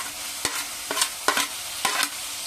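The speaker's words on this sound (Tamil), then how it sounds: "கருவேப்பிலை போட்டுக்கலாம் நல்லா வதங்கிக்கணும்" Tomatoes and curry leaves are sautéed in a pan for chicken kadai rice, with four distinct stirring scrapes of a spoon over a soft steady sizzle, close and without talk.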